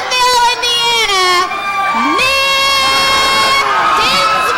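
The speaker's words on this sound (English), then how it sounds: "you hear the crowd response to these two young guns" A wrestling crowd roars and shrieks with high-pitched cheers as tag team Nick Dinsmore and "Ironman" Rob Conway make their entrance. The noise is loud and sustained, surging throughout with excited yelling.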